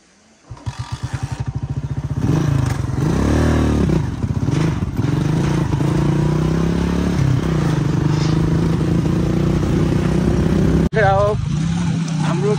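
A motorcycle engine starts and runs with a steady low thrum and fluctuating revs near a bridge, loud and close, while people talk over it throughout.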